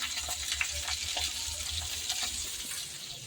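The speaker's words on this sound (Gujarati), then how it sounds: "જો તળવાનું ચાલુ છે" Gram flour gota fritters fry in hot oil with a steady, close crackling sizzle, accompanied by occasional soft stirring sounds and no talking.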